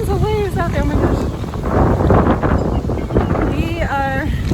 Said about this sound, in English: Oh my gosh, it's gotten windy out here.